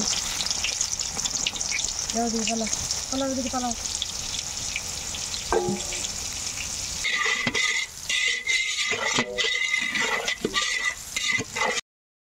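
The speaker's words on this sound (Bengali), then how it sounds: "আরো খানিকক্ষণ আমি তেল দিব, যে চাউমিন বড়িগুলা ভেজে নেব" Chowmein noodle cakes fry in a pan of oil with a steady sizzle throughout, while a few utensil knocks and brief stirring sounds come and go; the kitchen gets busier and clattery in the second half.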